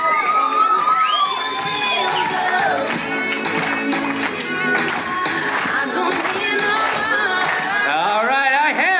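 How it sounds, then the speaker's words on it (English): A wedding reception crowd claps and cheers loudly and continuously, with shouts and whoops rising over the rhythmic clapping. "Can we get a little clap going?"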